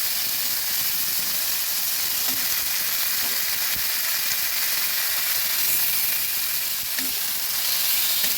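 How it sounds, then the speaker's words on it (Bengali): Prawns fry in a pan with a steady, dense hissing sizzle that holds at an even level throughout, a few faint soft knocks underneath and no voices. "বাদবাকি চিংড়ি মাছগুলো দিয়ে দিচ্ছি, একসঙ্গে ভেজে নেব"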